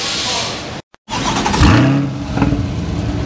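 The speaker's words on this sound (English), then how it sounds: "Starting up the car" A C8 Corvette's engine cranks after a brief silence, catches with a sharp rev that sweeps up and back down, then settles into a rumbling idle close at hand.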